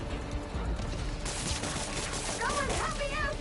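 Sniper gunfire in the PS5 game Spider-Man Miles Morales: a dense, roughly continuous barrage of shots fills the clip alongside game effects, with a voice speaking over it.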